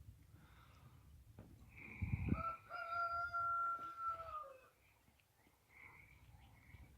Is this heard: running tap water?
no